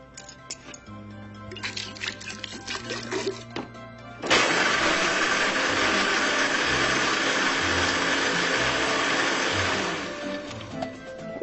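A blender whirs up nuts, honey and water into milk, kicking in loudly partway through and running steadily for several seconds before easing down, after quieter clinks and kitchen handling sounds.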